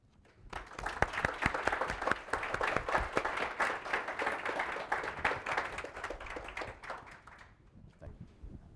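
An audience at a healthcare partnership conference breaks into applause to welcome a speaker, a steady wash of many hands clapping that swells quickly, holds for several seconds, then thins out toward the end.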